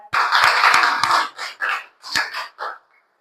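A group of schoolchildren in a classroom quiz claps in unison for the Rose team, several bursts of rhythmic group clapping, loud and close, ending in a brief pause.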